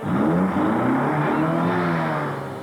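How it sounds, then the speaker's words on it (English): A car engine starts and revs hard in a 1980s television advertisement, a loud sustained roar with rising and falling pitch sweeps filling the whole clip, fading slightly at the end. "Gentlemen, start your engine."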